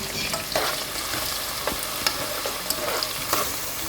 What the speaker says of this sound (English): I'm going to fry the onions